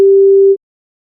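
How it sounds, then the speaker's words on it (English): A single steady pure tone, one of the notes C and G a perfect fifth apart, sounds loud and clean for about half a second, then stops abruptly, leaving silence. "In the examples, the tones C and G were used, which differ by an interval called a perfect fifth."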